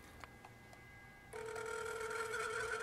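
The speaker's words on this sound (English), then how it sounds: "This number just keeps ringing too." A telephone rings: a couple of faint, distant tones come first, then a louder sustained electronic ring tone starts partway through and continues steadily to the end, with no talking.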